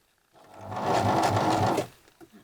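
Sewing machine stitching backwards over the elastic of a 17th century shift, one short steady whirring burst of under two seconds at moderate loudness.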